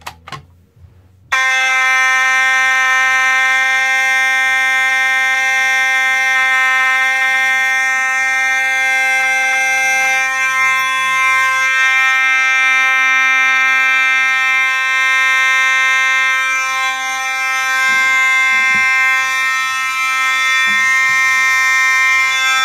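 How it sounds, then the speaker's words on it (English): A building fire alarm horn sounds continuously and loudly after the pull station is activated during a floor system test, a steady harmonic tone that keeps going without a break for about twenty seconds. "pull the alarm"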